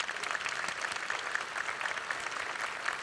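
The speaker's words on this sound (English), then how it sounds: "Let's give them all a round of applause" Banquet audience at the Thibodaux Chamber event giving sustained applause, a steady, moderately distant wash of many hands clapping with a few sharper claps standing out.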